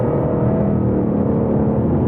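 2022 Ford Mustang Mach 1 V8 under hard throttle, a loud steady low rumble and whir heard from inside the car without talk.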